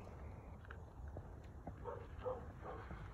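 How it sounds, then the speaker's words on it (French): A dog barks a few times at a distance beside a 1977 VW Combi T2b Westfalia camper van, the short muffled barks faint over a low background rumble. "un chien qui aboie"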